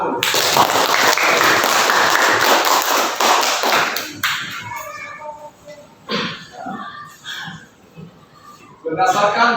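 A classroom of students gives a student a burst of dense clapping for about four seconds, after which the teacher speaks over quieter room sounds.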